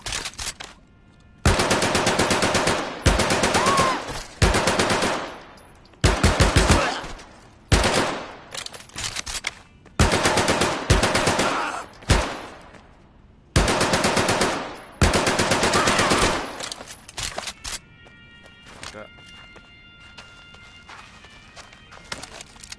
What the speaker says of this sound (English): the MP-40 doesn't go wild like other automatic weapons do when firing the entire magazine